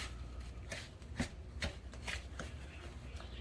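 A fork stirs a sugar mixture for homemade brown sugar in a bowl, giving soft repeated scraping and clicking strokes at close range, fairly quiet and uneven in rhythm, with no talking.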